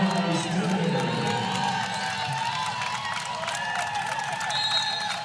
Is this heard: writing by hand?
no